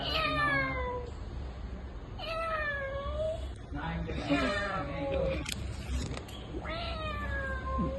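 A person imitates a cat with a series of drawn-out meows, some short pauses between, over background chatter.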